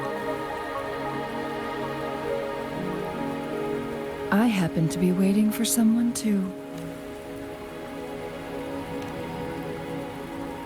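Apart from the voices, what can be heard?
rain falling in the video game Wuthering Waves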